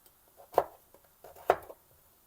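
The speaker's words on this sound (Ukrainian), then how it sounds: "Морку треба нарізати ось такими смужками і потім навпів" A knife chopping a carrot into strips on a board for a Transcarpathian lenten cabbage soup, two distinct close taps about a second apart amid quiet, with no voices.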